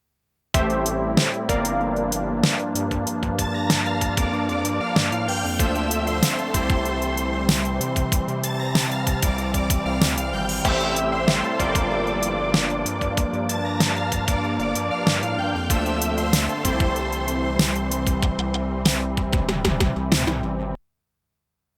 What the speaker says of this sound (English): Bloom is an intelligent, adaptive tone shaper for masters,